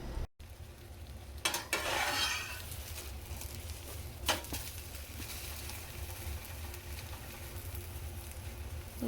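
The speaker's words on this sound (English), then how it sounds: "Listen to that sizzle." Egg white French toast sizzles in a pan, a steady soft crackle near the microphone, with a couple of brief louder scrapes or stirs early on.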